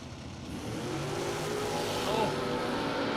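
Drag race cars, one of them a 1968 Camaro, roar down the strip at a drag racing event, a loud sustained engine rumble building steadily with a brief rise near the end.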